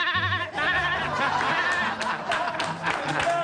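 Several voices in a crowd imitate sheep bleating at a live comedy show, wavering overlapping baa sounds with laughter and clapping mixed in.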